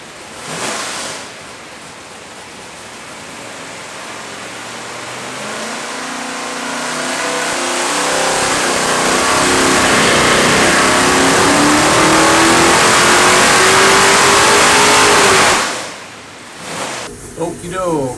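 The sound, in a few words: 572ci aluminum big block HEMI engine revving on dyno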